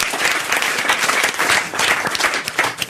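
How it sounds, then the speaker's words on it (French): Studio audience applause for Serge Liadeau on a French comedy radio-TV show, steady dense clapping filling the room at full strength throughout, no voices over it. "on peut applaudir Serge Liadeau"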